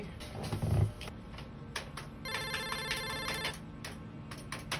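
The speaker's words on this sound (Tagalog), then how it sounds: "Ay, may tumatawag." A phone ringtone signals an incoming call, repeating bright electronic tone bursts after a brief low thump at the start, fairly loud with no talking over it.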